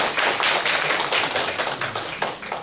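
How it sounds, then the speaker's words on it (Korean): An audience at a hospital lecture hall applauds to welcome a radiology professor, a dense, steady burst of many hands clapping close and loud, tapering slightly near the end. "큰 박수로 맞아주시기 바랍니다"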